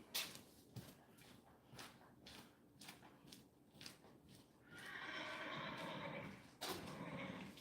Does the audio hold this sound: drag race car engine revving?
no